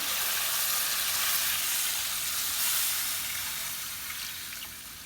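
Water pours into a pot of chicken frying with spices for Kashmiri white yakhni, setting off a loud, steady sizzling hiss that fades slightly toward the end, with no voices.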